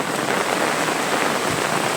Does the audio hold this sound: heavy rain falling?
yes